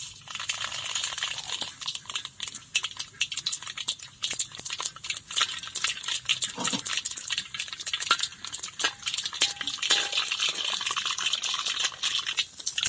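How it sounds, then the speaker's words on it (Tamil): Mustard seeds crackle and spit in hot oil in a pan, a dense run of small sharp pops and sizzle across the whole stretch, close and fairly steady, with no talking. "கடுகு எல்லாம் பொரிஞ்சிருச்சு"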